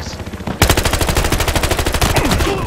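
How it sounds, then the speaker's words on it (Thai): Rapid automatic gunfire from an M416 rifle in the game Battlefield Hardline, a loud, near, sustained burst of evenly spaced shots following a quieter lead-in. "โอ้ยยิงมันไม่โดน อีบ้า M416 มายิงกู"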